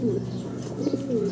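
A fancy Black Owl pigeon coos softly at close range, with two low throaty coos in a short quiet stretch.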